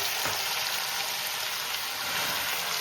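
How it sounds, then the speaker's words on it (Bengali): Paneer dusted with turmeric fries in hot oil, giving a dense, steady, close sizzle that holds level and loud throughout. "প্রথমে আমি পনিরটা ভেজে নিচ্ছি পনিরের মধ্যে একটু হলুদ দিয়ে দিয়েছি"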